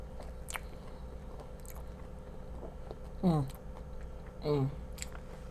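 Someone chewing deep fried salmon and spinach rolls, with soft wet mouth sounds and a couple of louder squishy bites standing out against a quiet room.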